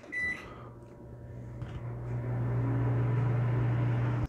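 A Power XL Microwave Airfryer starting a pizza cook, with a short beep and clicks first, then a steady low motor and fan hum that grows louder and settles into a constant drone.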